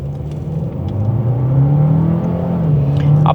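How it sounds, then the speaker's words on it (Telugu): A Renault Duster 2026 engine revs hard from a launch, its note climbing and droning steadily and loud close by for a few seconds with no voices. "సో అప్పటి వరకు మీ ఇంజన్ సౌండ్ అయితే వినొచ్చు."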